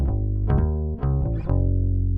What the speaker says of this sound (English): on the bass I have this UAD-610B preamp, and it's essentially a tube preamp that makes it sound a little fatter.